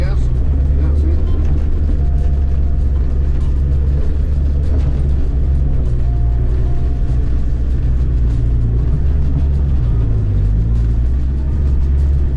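Twisted Land Rover Defender engine rumbling and revving steadily while off-roading, a loud continuous low drone close by, with people talking over it.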